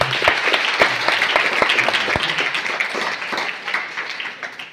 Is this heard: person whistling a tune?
no